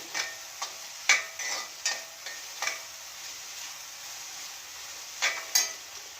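Onions frying in a pan for a soya chunk fry are stirred with a utensil, giving a soft sizzle under scattered scrapes and clinks at irregular intervals, close by and with no talking.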